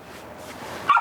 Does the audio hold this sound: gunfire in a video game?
no